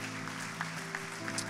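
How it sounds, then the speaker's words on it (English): Congregation clapping hands together at a church service, a steady wash of claps mixed with sustained organ-like tones and faint background voices, fairly quiet and continuous. "will you clap your hands to the Lord today?"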